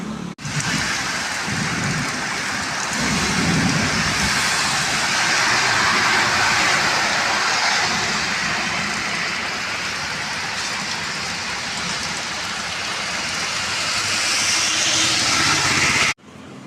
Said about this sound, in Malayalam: കുണ്ടയിൽ നല്ലൊരു മഴ കിട്ടി എന്തായാലും.